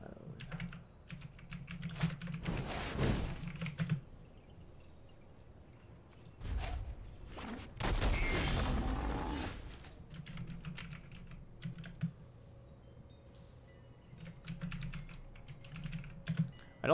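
Keys clatter on a computer keyboard in irregular bursts of rapid typing, close and fairly loud, with pauses and a louder flurry partway through during a Magic: The Gathering Standard online match.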